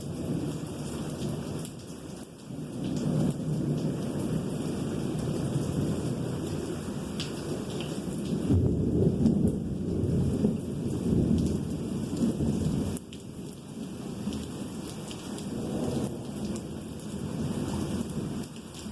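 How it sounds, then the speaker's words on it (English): Steady heavy rain pours down while low rumbles of thunder roll through, swelling louder midway before easing back to the constant downpour. "this rain is making me so happy"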